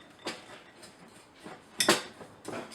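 Spoon stirring a dry spice rub of cumin and dry mustard for pulled pork, giving a few soft scrapes and clinks spaced irregularly, close and fairly quiet with no talking.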